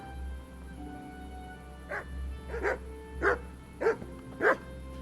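Dog in the video game Kingdom Come: Deliverance barks five times in fairly even succession over a low ambient hum. The barks are sharp, moderately loud and grow slightly stronger toward the end.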